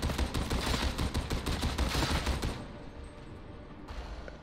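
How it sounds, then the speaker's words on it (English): Mk IV heavy stubber firing in Warhammer 40K: Darktide, a loud, dense burst of heavy automatic gunfire lasting about two and a half seconds, then cutting off into a fading echo with faint background ambience. "The Mk IV is very satisfying to use. It has slow rate of fire, packs a serious punch."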